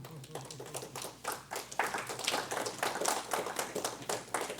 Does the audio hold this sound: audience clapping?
yes